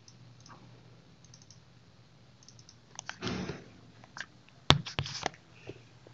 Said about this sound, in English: double click to make it fit.